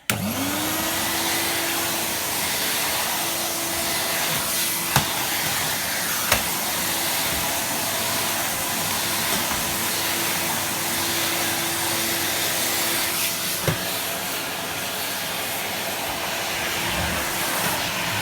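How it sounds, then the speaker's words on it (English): A 1994 yellow Numatic Henry HVR200 vacuum cleaner is switched on and spins up fast to a steady, loud motor whine while it hoovers a rug. It keeps a constant drone throughout, with a few sharp knocks as the nozzle moves. No one speaks. "This is quite a nice rug to Hoover actually."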